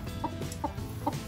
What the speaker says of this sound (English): Oh, we got a chicken.